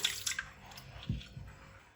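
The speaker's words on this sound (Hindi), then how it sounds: "अब एक पानी और धो लेते हैं इसको।" Raw chicken pieces being rinsed in water in a home kitchen, with faint splashes and drips and a soft slosh in the middle, quiet and close.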